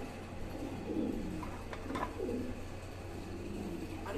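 German Beauty Homer pigeons coo softly nearby in a loft, low rolling calls repeating through the clip over a quiet background, with no voices.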